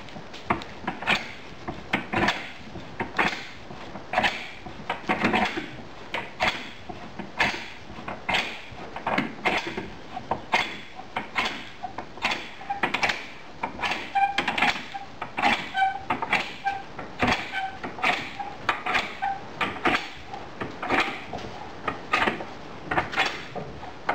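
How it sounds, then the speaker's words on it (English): A vise is cranked tighter and tighter on a homemade silicon bronze ingot, producing a long run of close, irregular clicks and creaks of the screw and jaws, repeated steadily in bursts with no talking. "I'll just keep tightening the vise until it breaks."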